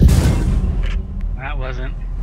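Tank cannon firing an HE shell in a tank battle video game, one heavy booming blast at the start that rumbles and decays, followed by someone talking.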